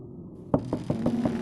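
A short run of five knocks on a door, a firm first rap followed by four lighter evenly spaced ones, close by over a low steady hum.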